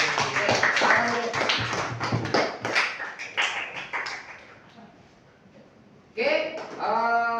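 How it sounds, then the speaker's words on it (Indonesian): A group of students in a classroom claps hands in a short burst of applause that fades out, then someone speaks and the clapping starts up again briefly. "kasih aplaus dan tepuk tangan buat"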